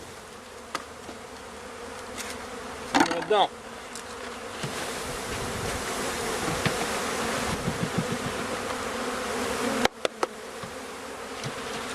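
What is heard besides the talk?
honey bees buzzing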